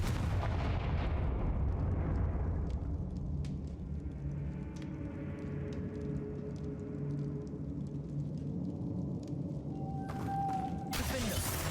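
A Confringo blasting spell in Hogwarts Legacy on PC goes off with a heavy boom that rolls away into a long rumbling tail, followed by smaller impacts and a sharp burst near the end.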